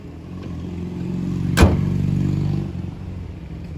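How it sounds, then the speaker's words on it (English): A 2023 Hyundai Kona with a CVT drives along, its engine and road noise a steady low drone heard from inside the cabin, with a brief sharp click-like burst partway through and no one talking. "Alrighty, we're driving the Hyundai Kona."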